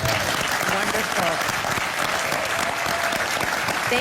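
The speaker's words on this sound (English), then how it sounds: "So let's give these two young men a big round of applause." Loud, sustained audience applause for two young men at a Los Angeles community forum, a thick crowd of clapping that holds steady throughout, with a voice speaking faintly underneath.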